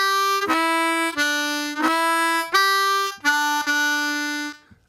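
A simple blues turnaround played on harmonica: about six bright, reedy notes in a steady rhythm, close and alone, ending with a fading held tone.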